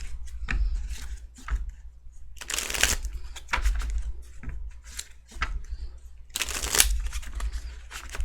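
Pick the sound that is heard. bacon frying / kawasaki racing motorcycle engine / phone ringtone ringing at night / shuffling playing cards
shuffling playing cards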